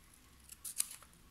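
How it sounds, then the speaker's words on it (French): Scissors snip diagonally through paper for a mini photo album, a few quick crisp cuts close by in a quiet room. "Ici, vous allez couper en biais."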